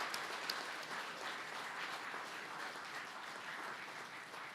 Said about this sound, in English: Let's give a big applause to Yang Berbahagia Prof. Hamidah.